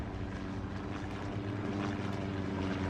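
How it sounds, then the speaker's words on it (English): In the World War II shooter Hell Let Loose, a propeller-driven recon plane drones overhead with a steady, low engine rumble that stays constant and fairly loud throughout. "Recon plane going over as well for L90."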